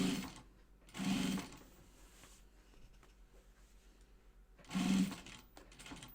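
A sewing machine stitching down folded binding on a fabric bag, two short bursts of rapid whirring stitches separated by a quiet pause, close and fairly soft.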